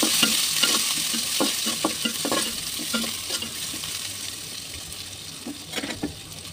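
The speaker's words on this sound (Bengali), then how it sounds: "এখন দিয়ে দেবো পেঁয়াজ, এগুলো আমি লেড়ে চেড়ে একটু বেঁধে নেবো।" Onions with dried chillies fry in a pan while a spoon stirs them in repeated scraping strokes over a steady close sizzle, no voices.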